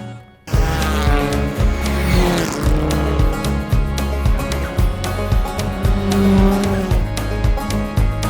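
A Lancia rally car runs hard on a stage at Rally Colorado. The engine roars loud and close with rapid throttle blips and gear changes, and a tire squeals briefly partway through as the car pushes through a corner.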